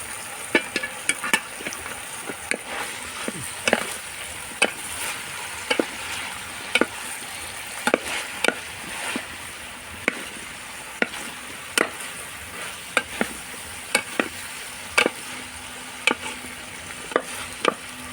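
Aviyal vegetables are stirred in a cooking pan, producing a quiet bed of soft sizzling broken by sharp, irregular scrapes and clinks of the spoon against the pan, with no talking.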